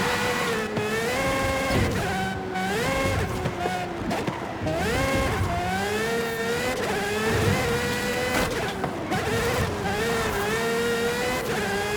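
Car engine in a Forza Horizon 5 race, revving and shifting continuously with rising and falling pitch sweeps, loud and close throughout the twelve seconds, with faint music or talk mixed in.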